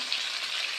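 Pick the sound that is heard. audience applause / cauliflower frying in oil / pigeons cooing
cauliflower frying in oil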